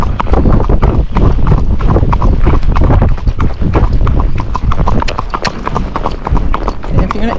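A Tennessee Walking Horse's hooves clip-clop in a quick, even gait on a trail moving from uphill to flat, close and loud, with wind buffeting the microphone and a person talking over the hoofbeats.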